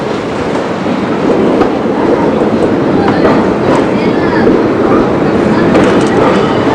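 New York subway train running on its tracks on an approach through a switch toward Canal Street, a loud continuous rumble and rattle with rhythmic clickety-clack of wheels over rail joints throughout.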